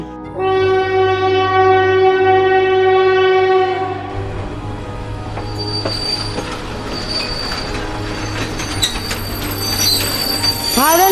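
A loud local train rumbles past nearby on a winter night, a sustained horn-like tone at first, then clattering wheels and metallic squeals continuing steadily.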